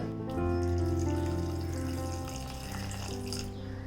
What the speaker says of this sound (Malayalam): ഞാനിവിടെ ഒരു 1/2 കപ്പ് വെള്ളം ഒഴിച്ചിട്ടുണ്ട്.